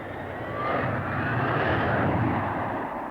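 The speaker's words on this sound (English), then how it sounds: "The Harrier utilizes the enormous thrust of its Rolls-Royce engine" A Harrier jump jet with a Rolls-Royce engine roars steadily and loudly, a broad rushing jet noise with a faint rising whine, heard alone.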